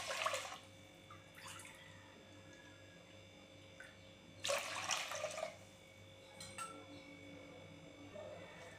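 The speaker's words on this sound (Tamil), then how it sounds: "6 கப்பு தண்ணி சேர்த்துக்கிறேன்." Water splashes and pours in a few short bursts into a cooking pot of millet pongal, over a steady low hum, with a quiet clink or two between pours.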